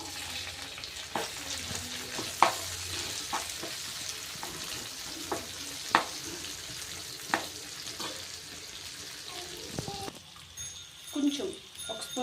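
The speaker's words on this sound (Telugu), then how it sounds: "కొంచెం లైట్గా ఫ్రై చేసుకొని ఆనియన్స్, గ్రీన్ చిల్లీ కూడా అందులో వేసేసి" Chicken frying with onions and green chilies sizzles steadily at close range, punctuated by repeated sharp clinks of stirring, with a voice talking softly near the end.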